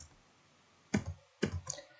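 Two or three sharp clicks, close and fairly loud, from a computer mouse being pressed while working through dialog steps in a certificate-making program, with a quiet pause between presses and no talk.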